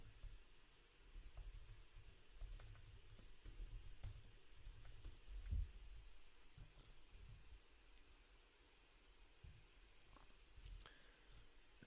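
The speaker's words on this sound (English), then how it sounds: "So if you just type in Evansville," Someone types on a computer keyboard, producing faint scattered clicks and taps at an irregular pace over a quiet, soft background hiss.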